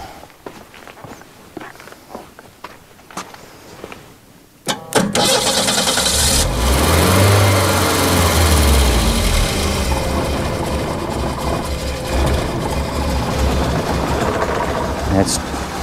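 A 1989 Winnebago LeSharo RV engine cranks and catches after scattered footsteps and thumps, then settles into a loud, rough, steady idle with a brief swell in revs, while a person speaks briefly over it.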